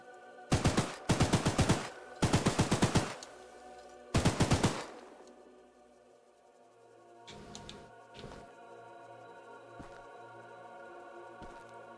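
A gun fires in the video game Choo-Choo Charles in four loud, rapid automatic bursts, each a tight string of shots, followed by quieter ambient game sound and a few faint clicks.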